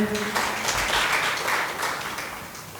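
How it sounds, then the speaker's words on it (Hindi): An audience at a religious question-and-answer session claps loudly for a correct answer, a dense wash of hand claps running steadily for a few seconds and fading slightly toward the end. "हाँ, जोरदार ताली बजाएं।"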